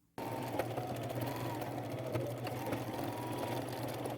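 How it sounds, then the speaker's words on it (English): A sewing machine stitches across a crossbody purse bag and its ruffled flap, a continuous close motor hum with fast needle rhythm starting abruptly and running steadily without pause. "I'm going to catch the bag and the flap and sew across that 2 or 3 times"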